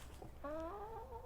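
Backyard chickens give a drawn-out, wavering hen call that begins partway through and holds to the end, close and moderately loud over a low background rumble, with no one talking.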